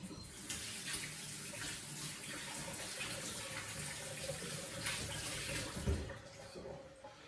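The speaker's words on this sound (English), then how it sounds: "So let me just wash my hands here." Tap water runs steadily for about seven seconds as hands are washed under it at a kitchen sink during kolache dough making, a continuous close splashing hiss with a brief louder splash near the end.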